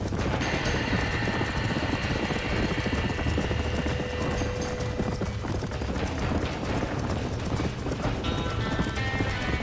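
Horses in a burning barn in the Red Dead Redemption video game, with dense galloping hoof clatter and whinnying amid a roaring, crackling blaze, loud and continuous without talk.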